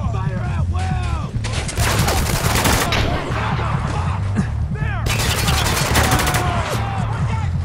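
Heavy gunfire in the video game Spec Ops: The Line, a loud sustained fusillade of rapid automatic bursts and shots, with game voices shouting beneath it.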